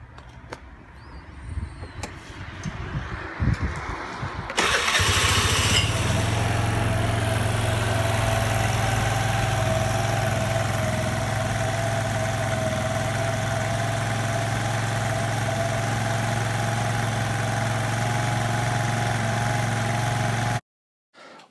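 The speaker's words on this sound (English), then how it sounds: "Let's fire up the scooter and see what it sounds like." A silver 2001 Piaggio Vespa ET4 125 scooter clatters through a few seconds of cranking and handling noise, then catches and settles into a steady, close idle hum that runs unbroken until it cuts off abruptly near the end.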